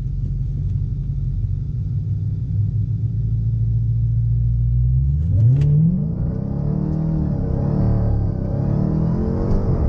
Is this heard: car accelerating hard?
yes